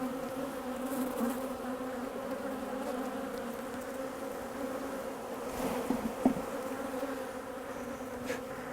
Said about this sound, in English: So we've shaken the bees off all the frames into there